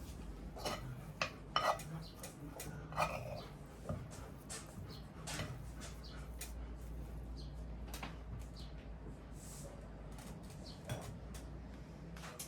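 A bowl being handled in a home kitchen while mashed potato made from Lay's potato chips is served, with soft clinks and scrapes of dishware throughout at low volume.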